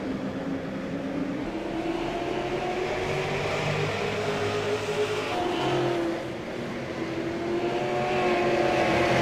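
Super late model stock cars race at Stafford Motor Speedway, with a steady, loud engine drone from a pack passing close by, pitch rising and falling as the cars sweep through the turns and accelerate.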